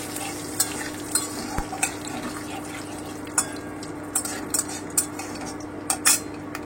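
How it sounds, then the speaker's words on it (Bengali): Whole cumin seeds, bay leaves and dried chilli frying lightly in a pan: a soft sizzle under repeated sharp scrapes and clinks of a spatula stirring against the metal, with no talking. "এবারে আমি গোটা জিরে, তেজপাতা আর শুকনো লঙ্কাটা দিয়ে দিলাম। আমি হালকা একটু ভেজে নেব।"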